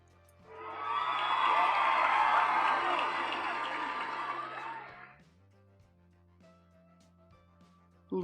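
A crowd applause and cheering sound effect plays in a Scratch project, a loud wash of clapping, whoops and shouts that swells for about four seconds, then cuts off, leaving quiet room tone.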